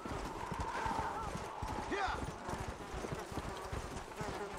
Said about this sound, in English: So this horse is fast.